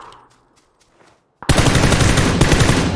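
Gunfire in PUBG on the Sanhok map: after a near-silent pause, a loud burst of rapid automatic shots erupts and keeps going as a dense, steady rattle to the end.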